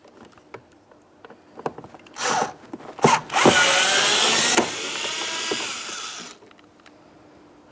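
Power driver spinning out a T20 Torx screw on a 2008-2016 Chrysler Town & Country front door, with a few short whirring bursts and then a sustained high-pitched whine for about three seconds, close, among light handling clatter, no talk.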